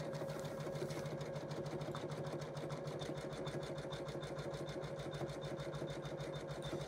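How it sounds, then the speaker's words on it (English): A sewing machine runs a tack down stitch on an in-the-hoop Christmas stocking, a steady, rapid mechanical chatter that holds an even rhythm close by from start to finish, with no talking. "It's going to do what they call a tack down stitch."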